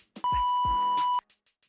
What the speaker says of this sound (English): leave your question at the sound of the beep